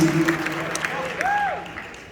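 A concert crowd in DC at a show claps and cheers, a short burst of loud applause with some voices and whistles mixed in.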